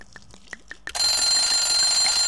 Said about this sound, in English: That's just my egg timer.